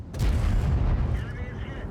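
A tank cannon fires in World of Tanks, a loud booming blast with a rumbling low-end tail that gradually fades over about two seconds.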